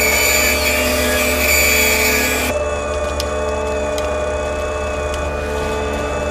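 A loud, continuous mechanical drone of heavy drilling machinery grinds on steadily, shifting tone partway through with a thin whine above it.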